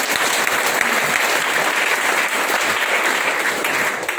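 Loud, dense applause from an audience at a MI LIFE leader's event in Boisar, a steady wash of clapping hands that holds unbroken from start to finish with no talk over it.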